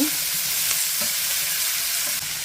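Onions are stirred around in a hot frying pan, a steady close sizzle with soft scraping strokes of a utensil across the pan.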